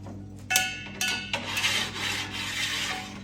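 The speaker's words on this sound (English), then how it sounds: "just filing this edge down just to put a little bevel on it" A common hand file rasps a small bevel onto a sharp metal edge on a mobile welding and jig table, several short scraping strokes close up and moderately loud, with a steady low hum underneath.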